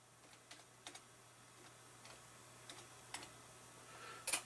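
Typing on a computer keyboard: a few faint, sparse key clicks spaced irregularly over a few seconds, quiet and close against low background hum.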